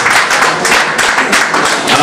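Loud, dense applause from a gala crowd at an evening event for stylists and seamstresses in Togo, a steady close wash of clapping filling the whole stretch.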